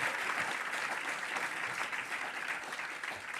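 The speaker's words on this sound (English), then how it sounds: "a big round of applause to all of our medalists." An audience at the Revelle Medal awards ceremony applauds the medalists with steady, dense clapping that holds at an even level throughout, without voices.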